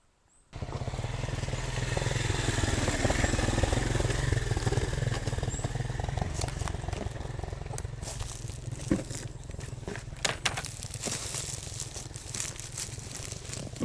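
A motorcycle engine drones on a mountain forest road in the Carpathians, rising in from silence to a steady close rumble with some rattles and clatter, then easing slightly as it passes.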